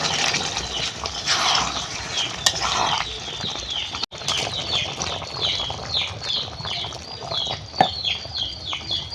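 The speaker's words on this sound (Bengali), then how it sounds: "এবারে জল দিয়ে দেবো" Water goes into a pan of chicken curry with potatoes, giving a splashy, hissing wash of liquid that is cut off sharply midway, then bubbling, sizzling sounds with a few clinks, close by.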